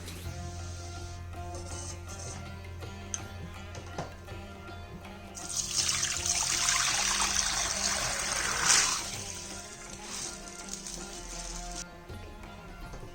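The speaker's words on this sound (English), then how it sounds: "now we will drain all the water through the strainer" Water pours and splashes through a strainer for several seconds while draining soaked jowar for idli, swelling loudly in the middle and then trickling away, with clinks before and after.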